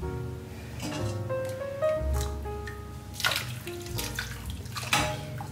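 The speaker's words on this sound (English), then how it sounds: "So what you have to do is you need to pour hot water on the skin." Hot water poured over the skin of a whole Cantonese roast duck in a home kitchen, a steady splashing pour lasting several seconds with a few sharper spatters near the end.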